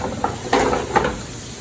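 Scallops sizzling in a hot pan, finishing in residual heat: a steady close frying hiss with a few brief louder crackling bursts, no voices.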